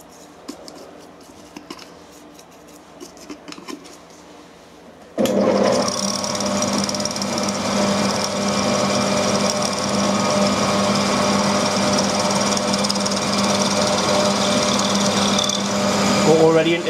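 A drill bores into metal on a lathe with an ER40 chuck, starting after a quieter stretch and then running as a steady, loud, continuous cutting whine with a high ringing tone.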